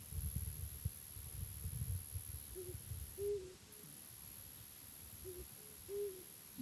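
An owl calls at night, close but soft, giving a pair of low hoots, then another pair a few seconds later over a quiet, faintly humming outdoor background.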